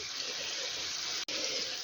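Water pours steadily into a frying pan of browning chicken drumsticks with paprika, a continuous close splashing hiss broken by one very brief gap.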